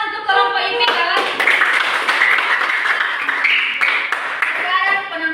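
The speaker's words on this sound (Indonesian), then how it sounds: "tepuk tangan untuk kelompok IPK lagi" Students in a classroom give a group a loud burst of clapping that runs nearly the whole stretch, with voices talking over it at the start and end.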